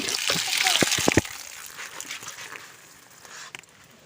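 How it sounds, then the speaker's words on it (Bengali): Pomfret fish are rinsed under a running tap in a home kitchen, with bursts of splashing and trickling water that are busiest early on, then thin out to sparse drips and splashes. "মাছটা কেটে নিয়ে যাচ্ছি কলে আর দেখো মাছগুলোকে এখন আমি ধুয়ে নিচ্ছি"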